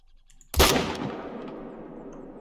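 A single loud rifle gunshot in theHunter: Call of the Wild: a sharp close crack followed by a long rolling echo that decays slowly over a quiet outdoor backdrop.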